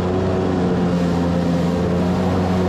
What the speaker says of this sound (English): when I rev this thing out, it immediately goes onto the rev limiter